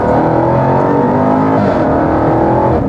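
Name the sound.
Jaguar XE SV Project 8 engine accelerating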